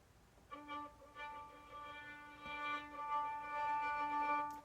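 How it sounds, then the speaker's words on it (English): Violin open string bowed too lightly, giving a thin, airy, breathy tone that holds steadily for about four seconds, moderately quiet and alone. "it sounds kind of airy. That means you're not pushing hard enough."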